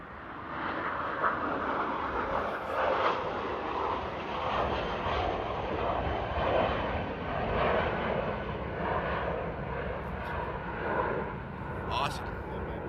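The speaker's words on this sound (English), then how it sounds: "with the International Engine Alliance engines, which sound really cool" Engine Alliance jet engines on an airliner at Paris Charles de Gaulle roar at a steady, loud level as it passes nearby, with a sustained rumbling whine throughout.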